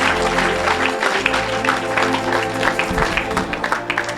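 A congregation at a church service claps steadily, many hands together in a continuous, fairly loud patter, with a sustained low musical tone underneath.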